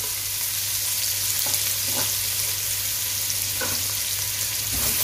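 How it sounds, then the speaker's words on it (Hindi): Mushrooms sizzle steadily in a pan with chicken just removed, a continuous dense frying hiss with a few faint stirring clicks, close and alone with no talk. "इसको हम थोड़ा सा फ्राई कर लेंगे।"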